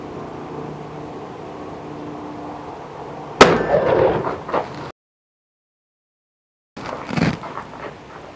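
A single sharp gunshot from a .38 Smith and Wesson No. 2 revolver, a loud crack with a short rumbling tail, followed after a brief silence by another short burst of noise.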